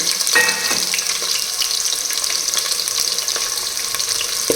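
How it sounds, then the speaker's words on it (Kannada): Thick-cut onions frying in a pot for pulao give a loud, steady close sizzle, with a brief stirring scrape near the start. "ಈಗ ಚೆನ್ನಾಗಿ ಫ್ರೈ ಮಾಡಿ"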